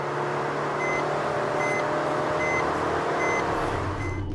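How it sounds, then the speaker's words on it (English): Maruti Suzuki Ciaz 2018 facelift speed warning chime beeping repeatedly in a steady, evenly spaced pattern inside the cabin, heard over constant road and engine drone at highway speed. "It beeps once every 30 seconds after 80 kph and then beeps non-stop once you"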